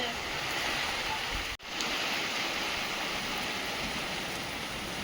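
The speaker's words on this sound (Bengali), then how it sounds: "বৃষ্টি আস্তে আস্তে বেড়ে যাচ্ছে" Steady, dense hiss of rain growing heavier, falling without pause, broken only by a brief dropout, loud and close.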